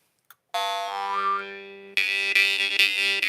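A Yuri Viskovich jaw harp in G2, highly polished, twanging with a steady drone and wavering overtones, then several sharp rhythmic plucks, close and clear.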